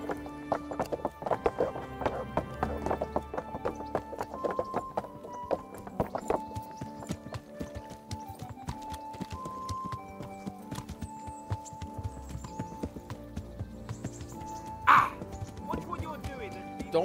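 Horse hooves clip-clop at a run in the medieval game Kingdom Come: Deliverance, with a brief whinny near the end, mixed under game music and someone talking.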